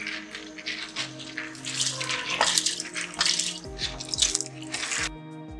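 Black gram lentils (urad dal) pour into a pot of water, a continuous close patter and splashing with dripping accents over a low steady hum, with no talk.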